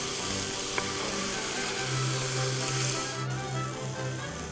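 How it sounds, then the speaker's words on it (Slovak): Veal shank searing in a well-heated ceramic frying pan, a steady loud sizzle and crackle of fat throughout with no voices, a low hum running beneath. "Dobre rozohriatá keramická pánvica nám mäso opečie do chrumkava."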